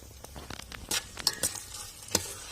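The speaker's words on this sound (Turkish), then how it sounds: "Evet şimdi kuru fasulyemizi de kavuracağız." Parboiled dry beans sauté with tomato paste and onion in a pan, a soft sizzle running under several sharp scrapes and clinks of a utensil stirring against the pan, close and fairly loud.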